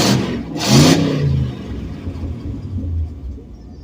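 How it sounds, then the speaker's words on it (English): A 1984 Chevrolet El Camino engine revs up in one loud, brief burst, then settles into a deep rumbling idle that lingers close by. "We'll do a little rev."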